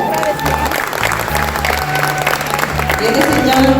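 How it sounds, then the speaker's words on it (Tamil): A crowd claps steadily and warmly at a Pongal celebration in Thailand, with a dense spread of hand claps filling the space and some voices mixed in. "உங்களுடைய விடாமுயற்சிக்கான ஒரு கைத்தட்டல் இதோ."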